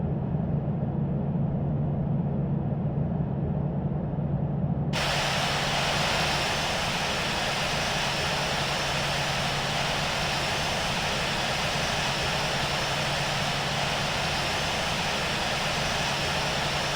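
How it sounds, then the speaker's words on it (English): Jet engines of a Kenya Airways Boeing 787-8 in the Infinite Flight game drone steadily while taxiing, with a broad, loud roar that suddenly brightens and stays constant. "Taxiing to Terminal."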